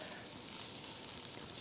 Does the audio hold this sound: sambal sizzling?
yes